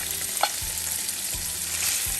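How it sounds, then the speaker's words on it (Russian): Bacon sizzles and fries steadily in hot vegetable oil in a pan, a continuous crackling hiss close up with a few louder pops and low periodic thumps, no talking. "Первым делом я буду сейчас обжаривать бекон."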